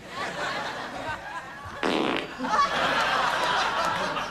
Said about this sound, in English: Strawberries make me fart.